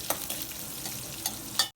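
Crushed garlic, cumin, mustard seeds and dried red chillies frying in hot oil for a sambar tempering, a faint steady hiss with a few soft crackles before it cuts off abruptly.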